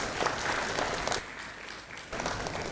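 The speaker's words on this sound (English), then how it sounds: "Please give him a big round of applause." Brief applause from an audience at a management institute's annual convocation, a steady wash of clapping lasting a couple of seconds with slight swells and dips.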